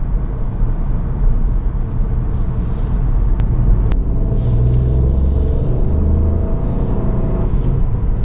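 A car drives along a winding coastal road in Croatia, with a steady, loud low engine and road rumble throughout and no talking.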